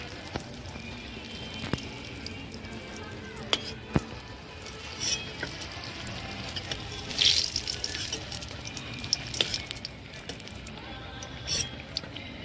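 Oil sizzling softly in a pan while brinjal slices fry, with occasional clicks and taps of a utensil and a brief splashy hiss.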